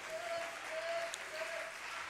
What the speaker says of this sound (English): clap your hands and lift your voice and give God some praise.